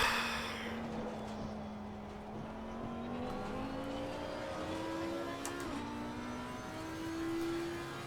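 A race car engine drones in a racing game at Imola, its pitch climbing steadily through the gears as the car accelerates around the track, with no voices over it.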